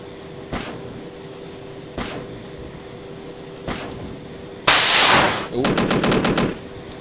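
Helicopter gun fire in Arma 3, from an AH-64D Apache Longbow: a few spaced single thumps, then a loud sustained burst of rapid cannon fire that ends in a rattling stream of shots.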